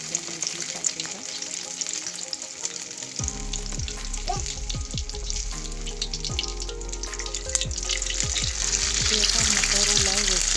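Burger fillings drop into hot oil in a kadai and fry with a loud, bubbling sizzle that swells after a quiet start, dotted with sharp pops and crackles up close, no speech.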